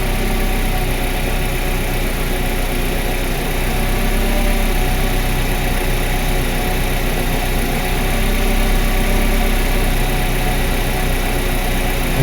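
A 1995 Mercedes W210 in extremely rich condition idles roughly, a loud steady close engine drone with a low uneven vibration running throughout, no voices.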